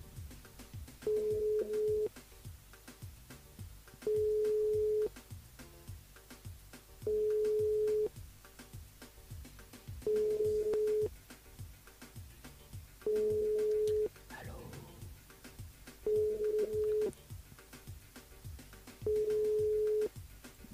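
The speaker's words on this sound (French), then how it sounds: "ça sonne mais ça répond pas" A telephone rings unanswered during a live call-in radio show. A steady electronic ring tone repeats about every three seconds, seven times in all, each lasting roughly a second, with low room noise in between and no talking.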